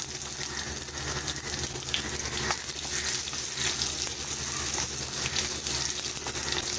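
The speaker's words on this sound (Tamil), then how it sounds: "வெங்காயம் நல்லா வதங்கணும்" Onion, mustard seeds and a dried red chilli sautéing in hot oil for a Tamil keerai kadaisal, a dense, loud, continuous frying hiss with no pauses.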